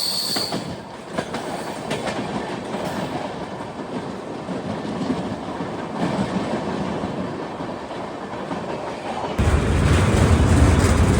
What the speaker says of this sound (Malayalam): അരമണിക്കൂർ ലേറ്റായിട്ട് നമ്മളങ്ങനെ ഷൊർണൂർ ജംഗ്ഷനിലേക്ക് കയറുകയാണ്.